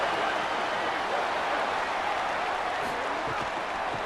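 A large stadium crowd in the College Football 27 video game roars steadily after a punt return, a dense, even wash of cheering noise holding at the same level throughout with no pauses.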